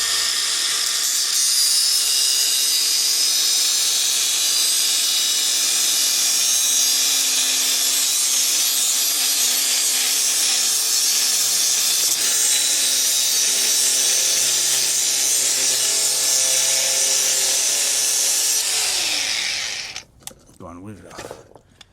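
Power tool, DeWalt or Milwaukee, cutting a damaged Mini JCW part, a loud continuous high whine held steady for about twenty seconds before cutting off abruptly near the end.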